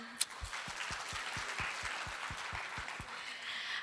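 Audience at a skincare product presentation applauding under a steady, regular low thump, like a rhythmic beat about four times per second, with the clapping fairly faint and brief.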